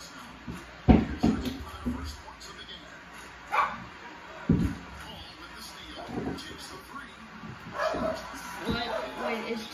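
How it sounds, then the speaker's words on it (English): A pet dog barks a few short, sharp times in a room while a basketball video game plays and a person talks and cheers over it. "there's my dog and upstairs"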